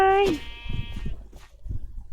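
A sheep in Minecraft gives one clear, tonal bleat right at the start, followed by quieter game thuds and a speaking voice.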